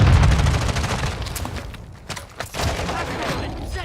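Rapid bursts of gunfire in Call of Duty Warzone, a Resurgence match on the Vondel map, with dense close volleys and sharp cracks while players call out over it.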